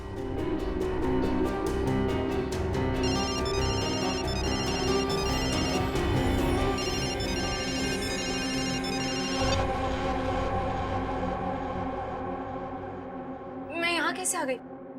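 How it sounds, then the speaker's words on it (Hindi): An electronic mobile phone ringtone plays loudly over a busy background of music and voices in a CID TV episode, with a rapid trilling melody near the end. "अपने फोन से पायल को फोन लगाओ।"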